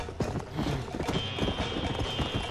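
Horse hoofbeats from riding through the open world of the video game Red Dead Redemption, a steady rapid clip-clop of hooves close and loud, with no talk over it.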